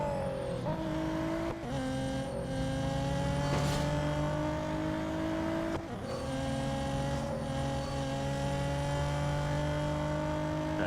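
A racing car engine in Real Racing 3 revving and accelerating through repeated gear changes, rising whines climbing in pitch, loud and continuous with brief dips at each shift.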